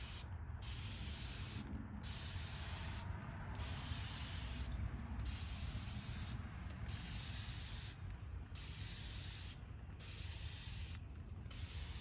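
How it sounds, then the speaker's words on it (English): A steady, gentle hiss of a spray bottle misting water onto seedlings in damp soil, with a faint regular pumping rhythm repeating every second or so, close by. "the gentle spray of the sprayer is not going to move the seedlings around too much"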